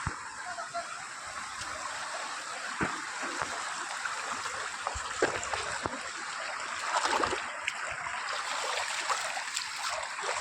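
River water rushes and splashes steadily during a river crossing, a constant bright flow with scattered knocks and splashes, and voices faintly underneath.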